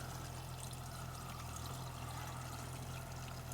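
Water pours steadily into a jar while apple cider vinegar is being made, a constant close rushing stream with no pauses and no voices.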